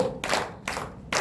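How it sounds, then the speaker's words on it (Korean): Three crisp, evenly spaced hand claps in rhythm, close and clear, during a church praise time. "자, 박수 하나 둘 셋 넷 하나 둘 셋 넷."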